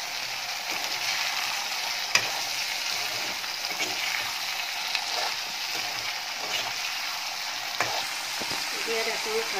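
Potatoes and drumsticks frying in a pan with ginger-garlic paste for a drumstick fish curry, a continuous close sizzle with occasional clicks and scrapes of stirring.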